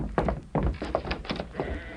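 A flock of sheep in trouble bleats repeatedly, several short overlapping calls in quick succession, fairly close, with a dull thunk among them.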